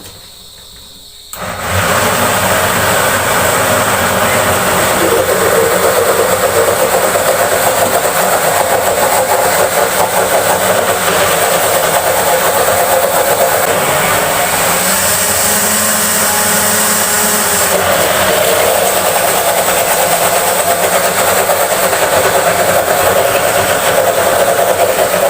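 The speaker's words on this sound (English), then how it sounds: "Now we add a dash of oil and see if our machine finds it easier to work it." Homemade chocolate-making machine grinding chocolate after a dash of oil is added, a loud continuous motor drone with rattling grind that starts abruptly and runs steadily, alone.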